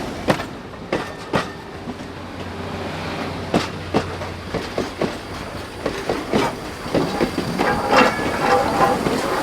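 A freight train led by SD50 diesel locomotives running tender first rolls past with repeated clickety-clack wheel thumps over rail joints, a steady rumble underneath and faint metallic squeals, fairly close.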